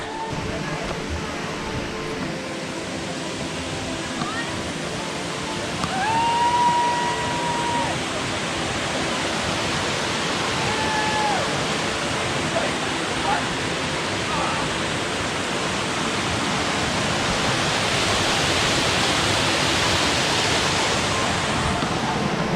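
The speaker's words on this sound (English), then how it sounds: "there's just a tiny little waterfall there right now" Small waterfall at Tamolitch Falls, Oregon, a steady broadband rush of falling water heard continuously at moderate distance, with faint birdsong and light wind over it.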